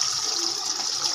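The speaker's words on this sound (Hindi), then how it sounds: "तो अभी इसको इसके अंदर मैंने तकरीबन 3 गिलास पानी डाल देना है" Water pouring steadily from a glass into a pressure cooker holding goat trotters, a continuous close splashing rush with no talk.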